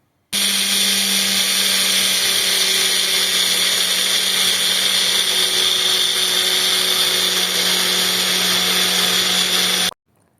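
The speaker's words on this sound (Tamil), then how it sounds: "மிக்ஸி ஜாரில் கொஞ்சமாக வாட்டர் ஊற்றி ரொம்ப நைஸாக அரைச்சிக்கோங்க" Mixer grinder blending soaked ragi with a little water, a loud steady whirring motor hum that runs continuously for about nine and a half seconds, then cuts off abruptly.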